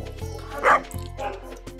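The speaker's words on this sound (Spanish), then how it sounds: "Si escuchan perros ladrando afuera." Dogs bark and yip outside through an open window, a loud bark burst standing out near the middle over a low steady hum, with faint indoor sounds around it.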